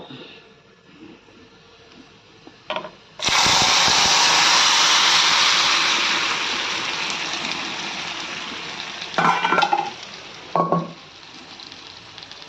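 Cumin, mustard seeds, dried red chillies and curry leaves hit hot oil with a sudden loud sizzle that slowly eases, with brief clatters of utensils near the end.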